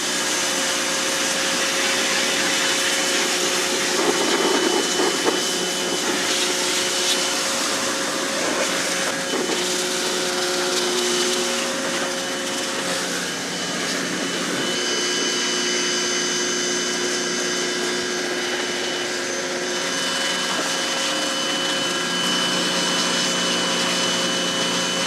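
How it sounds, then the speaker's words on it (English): A Greenworks battery-powered pressure washer runs continuously at close range, giving a steady, loud motor whine with a hissing spray as it cleans muddy bikes, with no talk. "Right, let's try the Greenworks."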